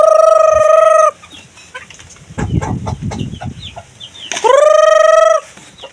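A rooster crows loudly twice, at the start and near the end, while backyard chickens cluck and squabble in the gap between the crows.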